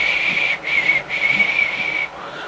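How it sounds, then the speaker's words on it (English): A single high, clear whistle holds a steady note, broken by two short pauses and ending abruptly. "The curious whistling."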